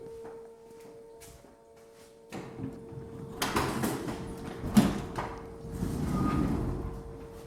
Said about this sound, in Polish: Muszę uchylić drzwi od garażu, bo się podusię tutaj.